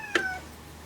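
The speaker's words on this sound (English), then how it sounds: "Excuse the cat, that's a very needy one." A needy house cat gives a single short meow indoors, fairly close and clear, then quiet room tone.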